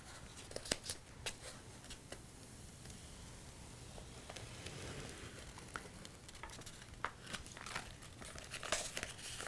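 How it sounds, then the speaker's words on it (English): Silhouette vinyl sheet is peeled from its backing, giving soft crinkles and small crackling ticks at low, close volume over a quiet room, with no talking. "I'm going to actually peel it off."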